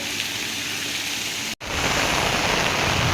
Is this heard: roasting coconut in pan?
no